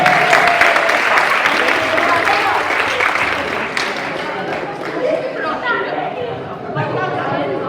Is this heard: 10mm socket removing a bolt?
no